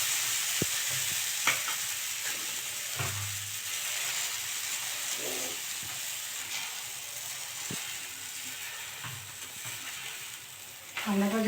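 Flour roti frying in mustard oil in a pan, a steady close sizzle and hiss running throughout with occasional stirring scrapes and soft clinks, no talking.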